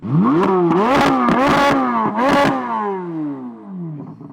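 A car engine revs repeatedly inside a window tint shop, rising and falling in pitch over a few seconds and then settling into a descending idle, loud and close with no talk.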